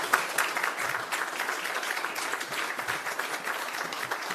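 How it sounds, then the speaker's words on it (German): Sustained audience applause at the opening of an exhibition on the early Nazi concentration camps, dense steady clapping from a full hall filling the whole stretch without pause. "das verdient einen Applaus"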